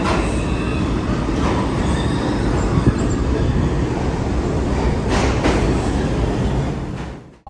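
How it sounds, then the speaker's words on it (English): A New York City subway train bound for Brooklyn rumbles loudly along the rails, a dense continuous roar with faint clatter and a squeal, fading out at the very end. "Time to catch a train back to Brooklyn."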